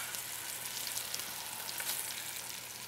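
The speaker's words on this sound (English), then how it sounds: "Browned food tastes better, period. So that's what we're doing, we're browning them." Short ribs browning in a hot pan give a steady, close sizzle of frying that holds at an even level throughout, with no talking.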